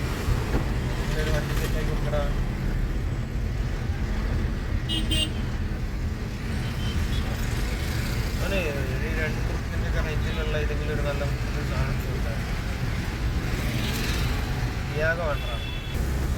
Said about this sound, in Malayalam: Gundlupet KSRTC bus stand.